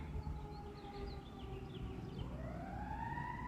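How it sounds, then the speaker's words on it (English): Sirens wail steadily in the distance, their pitch slowly sweeping upward over a low rumble of traffic, with no talking. "You can hear the sirens in the background and stuff."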